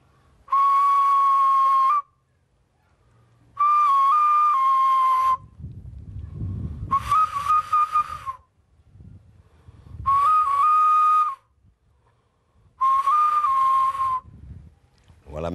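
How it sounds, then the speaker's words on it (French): Five loud, shrill blasts of a kiss, a traditional whistle-like signalling instrument, each lasting one to two seconds with short pauses between; faint rustling and breathy noise fill the gaps, with no talk. "Voilà le son du kiss."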